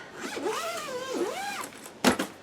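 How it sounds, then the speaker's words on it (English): A zipper is drawn shut on a packing bag full of clothes, with two long rasping pulls that rise and fall in pitch, then a couple of short sharp tugs at the end, close and clear. "We are going to zip that up."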